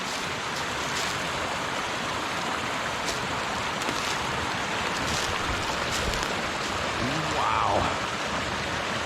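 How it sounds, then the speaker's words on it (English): Waterfall in Tioga State Forest along a backpacking trail, a steady broadband rush of falling water filling the whole clip at an even level, with a brief faint bird-like chirp near the end. "look at this waterfall"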